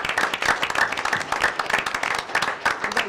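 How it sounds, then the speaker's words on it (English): A city council meeting audience applauds to honor someone's 17 years of work, a steady dense patter of many hands clapping at moderate volume throughout. "So let's give them a round of applause."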